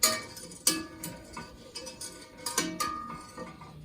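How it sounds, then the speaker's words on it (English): A spoon stirs taffy candy mixture in a pot, making soft, irregular clinks and scrapes against the metal, quiet and close, with no one talking. "Yeah, I just occasionally stir."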